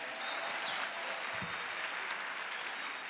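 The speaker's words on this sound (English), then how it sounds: "Round of applause, ladies and gentlemen." Students at a first-year university dialogue applaud in a steady, even wash of clapping that holds for the whole stretch, fairly distant and without talk.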